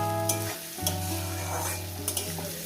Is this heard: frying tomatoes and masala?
yes